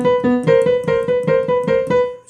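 Piano playing bars 1 and 2 of Rimsky-Korsakov's Flight of the Bumblebee: a rapid run of repeated chromatic notes in an even, buzzing rhythm, played alone and fairly close.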